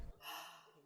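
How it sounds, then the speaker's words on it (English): A single short, breathy gasp, the kind an Irish keening mourner used to close a verse of lament. It is quiet and close, with a rushing intake of air lasting under a second. "marking the end of their verse with one of these syllables or a characteristic gasp."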